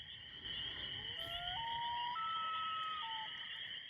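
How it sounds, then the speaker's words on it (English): A common loon's wavering tremolo and yodel calls ring out over a lake, rising and stepping in pitch, heard alone with steady background hiss and no talking. "He's going nuts. He's calling out to me."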